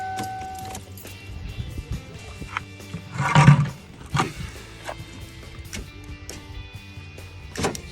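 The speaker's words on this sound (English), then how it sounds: "test to make sure the window's rolling up and down" A car's power window motor whines as the glass runs up and down, with a louder mechanical surge midway and a few knocks and clicks around it in a quiet interior.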